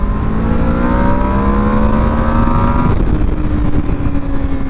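A Yamaha Vmax motorcycle roars close by as it is downshifted and rolled on hard from around 5,000 RPM. The engine note climbs in pitch, breaks briefly at a shift, and then pulls again loudly.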